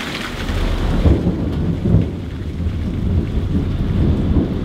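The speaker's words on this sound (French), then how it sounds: "toute la nuit par des orages quasiment non-stop" Thunderstorm with heavy rain on a night chase in Tornado Alley: steady, dense rainfall with deep rumbling thunder swelling in repeated low rolls, loud and close, no voices.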